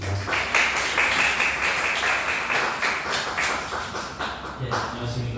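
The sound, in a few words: audience applause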